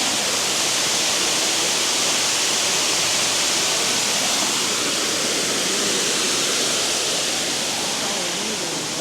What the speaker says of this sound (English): Just listen to the waterfall sound.